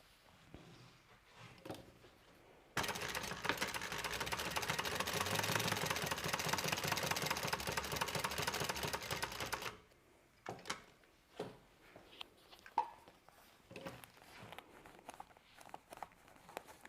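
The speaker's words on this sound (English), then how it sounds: "now I'm going to stitch, again, using a 1/4 inch seam allowance" A sewing machine stitches a quarter-inch seam on a small holiday stocking-stuffer bag, its motor running as a steady, close whir for about seven seconds before stopping, followed by scattered light handling clicks and fabric movements.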